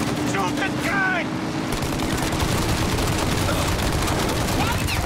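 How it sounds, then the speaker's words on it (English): Gunfire rattles continuously in the Mafia Definitive Edition video game, dense and loud over a vehicle engine drone, with brief voices early on. "Now, shoot the gun."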